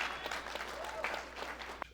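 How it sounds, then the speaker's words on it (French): Guests at a wedding ceremony clapping, a faint, fairly brief burst of applause with scattered sharp claps and a few overlapping voices. "Est-ce qu'on peut applaudir pour le Seigneur?"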